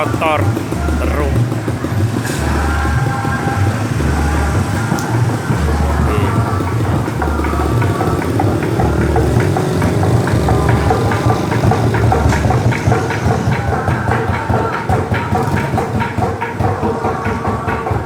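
Motorcycle engines idle and rumble through a nighttime takbir convoy of a mosque youth group in Kebumen, a steady loud low drone with pulsing throb, cars or bikes close by throughout, faint voices mixed in.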